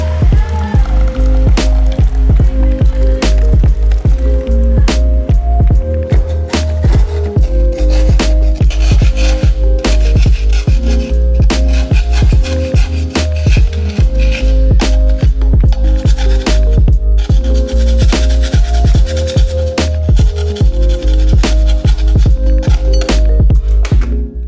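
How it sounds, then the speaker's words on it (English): A small metal fan part from a Tatooine droid is scrubbed clean under running hot water, a loud, steady rubbing and rasping with constant watery hiss and frequent small knocks throughout. "Using hot water to probably dissolve all this gunk."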